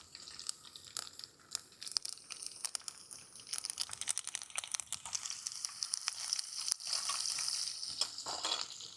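Garlic cloves and cumin seeds sizzling in hot oil for a Gujarati millet methi-palak velaniya dish, a steady bright crackle with sharp spits and pops, louder toward the end, no talk.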